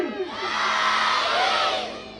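A crowd at a Republic Day celebration at an academy roars with cheering and applause, swelling to a loud, sustained wash of voices and clapping before easing slightly at the end.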